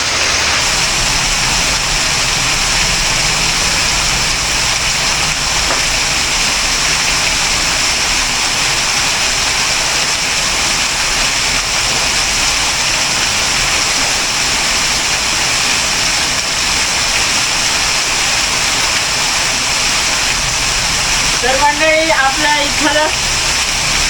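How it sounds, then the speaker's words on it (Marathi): Small waterfall at an outdoor Mahadev temple site, a steady broadband rush of falling water running continuously and loudly throughout, with faint voices and a few brief clatters near the end. "इथं पडणारा धबधबा छोटासा एकदम भारी आहे"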